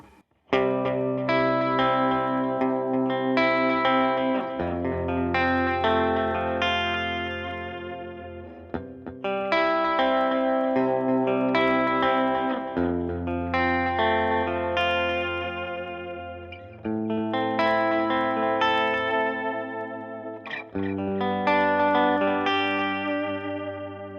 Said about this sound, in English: here's some tape echo with a clean sound